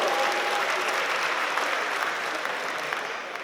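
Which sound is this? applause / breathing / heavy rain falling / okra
applause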